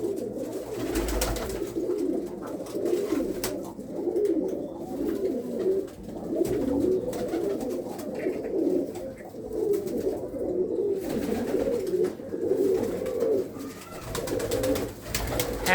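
Several pigeons, including old red Cheena birds, coo continuously in soft, rolling, overlapping phrases, heard close by and alone, with no talking.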